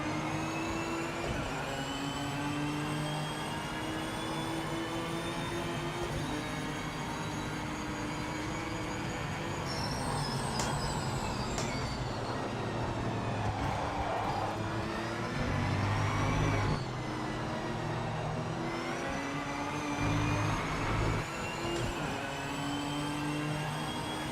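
Race car engines from the Project Motor Racing game drone continuously, a steady mechanical whine with shifting pitch as revs rise and fall, loud and close, no voices.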